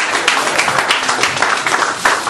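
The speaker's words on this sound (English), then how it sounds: "Give them a big round of applause and welcome them to Singapore." An audience in Singapore welcoming Pelé and Cantona breaks into fairly loud, continuous applause, with individual claps popping out of the steady roar.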